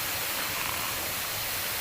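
Aron Falls, also called Lanik Gapol, a cold-water waterfall, roars as a steady, dense broadband rush of falling water, close and continuous with no pauses.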